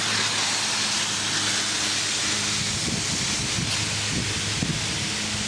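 A steady, close hiss of compressed air spraying from inground sprinkler heads during a winterizing blow-out runs throughout, with faint rattling and bumping in the low end.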